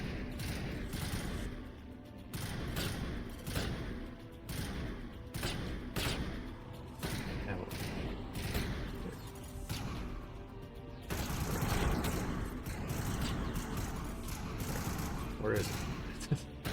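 Steady gunfire from overheating, non-reloading weapons fills a Mass Effect Legendary Edition firefight, dense rapid bursts and booms running continuously at a fairly even loudness with game sounds layered in.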